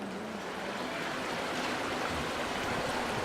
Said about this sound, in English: Der Simonsbrunnen ist ein zweiter Brunnen in der Stadt Bern